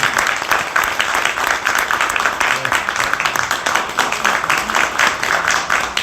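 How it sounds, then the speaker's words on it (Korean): An audience at a book concert near Hongdae, Seoul, claps steadily for about six seconds as a former navy chief of staff is welcomed, a dense even patter of many hands, close and loud, with no talking. "박수로 맞아주시면 감사하겠습니다"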